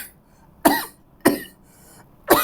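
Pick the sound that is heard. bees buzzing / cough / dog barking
cough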